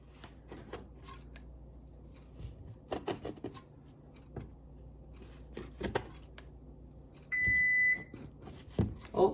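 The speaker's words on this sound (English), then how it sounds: "that's the timer squawking at me" In a home kitchen, a timer gives one steady electronic beep near the end, after scattered cutting and scraping sounds from preparing a sweet treat.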